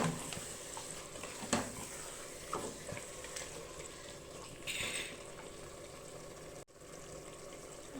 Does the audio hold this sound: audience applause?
no